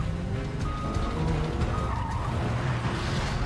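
Cars tearing through a TV car chase scene, with a steady engine roar and tires skidding and squealing, dense and loud throughout.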